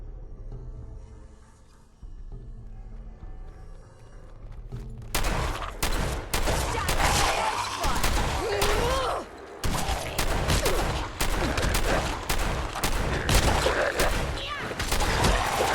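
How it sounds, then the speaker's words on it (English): Gunfire from a shotgun in Fallout 4, starting after a quiet stretch of low ambience and then loud repeated blasts and clattering combat noise fill the rest, with occasional talk underneath. "Let's try and use a shotgun."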